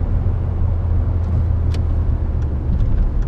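A 2002 Audi A3 8L with the 1.8T 150 hp engine pulls from low revs, a loud, steady low engine drone heard from close by with faint road noise and no speech.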